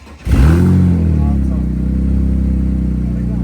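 A turbocharged BMW E36 four-cylinder engine catches after a quiet moment and settles into a loud, deep idle close by, the rumble holding steady, while a person talks over it.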